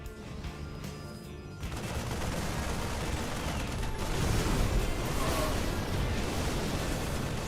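Siege tanks pound sentries with massive volleys in a StarCraft match: a loud, continuous barrage of blasts and rattling impacts that swells after the first second and a half and stays dense throughout.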